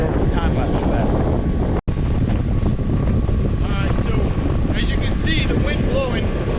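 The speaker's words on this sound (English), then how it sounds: "See the wind blowing." Wind blowing outdoors at a site where house walls are being framed, a steady, loud broadband rush buffeting the microphone throughout, with a few faint chirps and one brief dropout.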